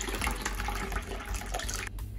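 Hot water from an electric kettle pours in a steady, rushing splash into a container for a glass-cleaning mix, continuous and fairly close before cutting off abruptly near the end.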